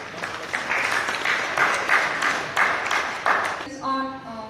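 An audience at a uPVC window installation workshop in Gurgaon claps together in a steady, fairly loud burst that fades as a voice starts speaking near the end.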